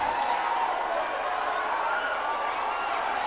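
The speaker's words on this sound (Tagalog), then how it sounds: "And the crowd goes wild." Crowd at a basketball game in the Ako Bicol Cup semi-finals, Virac versus San Andres, cheering loudly and steadily after an and-one play, a dense roar of voices that fills the whole stretch with no breaks.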